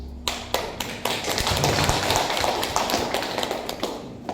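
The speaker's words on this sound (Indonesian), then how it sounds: "Saya belum suruh tepuk tangan, baru saya mau suruh tepuk tangan tadi di sana." An audience at the opening ceremony of an English-teachers' working group at MAN 2 Palu claps, starting with a few scattered sharp claps that swell into steady, fairly close applause lasting several seconds, with no talking.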